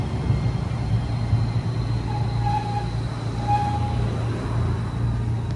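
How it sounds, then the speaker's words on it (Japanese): A Nagasaki Electric Tramway route 5 tram bound for Hotarujaya, a new type 5000 articulated streetcar, arriving at a city-centre stop as a steady low rumble with faint high tones, loud and continuous, with no voices. "5系統の蛍茶屋行きやってきましたね"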